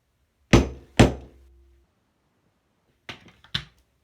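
Two sharp metallic strikes of a hammer on metal close together, the second ringing briefly, then a pause and two lighter taps.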